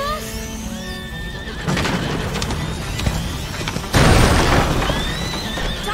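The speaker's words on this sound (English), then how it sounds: "the horse!" In the video game A Plague Tale, a horse neighs in a clear rising whinny, followed by hoof clatter, rumbling crashes and a louder chaotic burst of action as a second whinny sounds near the end.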